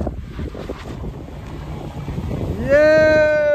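Wind gusts rumble against the microphone at a snowy mountain pass, a loud, rough roar that continues throughout while a voice sounds near the end.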